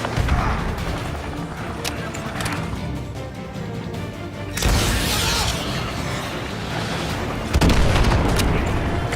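AGM missile strikes in a video game: a steady rumbling battle bed of booms and crackling impacts, with a heavy explosion swelling midway and another loud blast near the end, voices faintly present.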